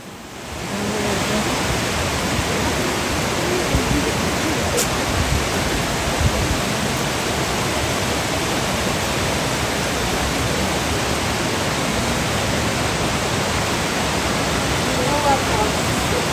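Minoh Falls, a waterfall near Osaka, Japan, roars as a steady, dense broadband rush for the whole stretch, loud and unbroken with no voices over it.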